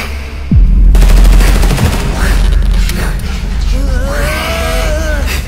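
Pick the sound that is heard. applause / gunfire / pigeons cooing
gunfire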